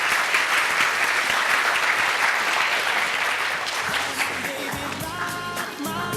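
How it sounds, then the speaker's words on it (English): A conference audience applauds after a Q&A session, dense clapping filling the room and gradually thinning toward the end, with some voices mixed in. "another round of applause,"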